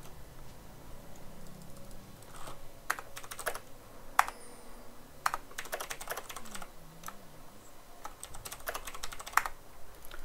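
Rapid, uneven keystrokes on a computer keyboard during a League of Legends game, with clusters of sharp clicks and pauses over a steady low room hum, close and fairly clear.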